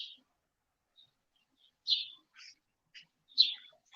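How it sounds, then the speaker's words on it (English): A small bird chirps near a big nest by a window, giving a few short, high, scattered calls with quiet gaps between them. "Was that a bird over there?"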